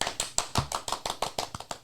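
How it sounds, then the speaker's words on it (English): Steady, quick hand clapping from the hosts at the start of a podcast episode, about a dozen sharp claps in an even rhythm, close and fairly loud, with no talking over it. "Give me a round of applause."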